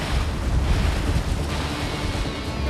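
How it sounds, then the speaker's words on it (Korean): Rough sea churning around a barge being towed by a single rope toward fish farm pens off Tongyeong, a dense, steady roar of waves and wind buffeting the microphone. "오늘따라 거칠어진 바다"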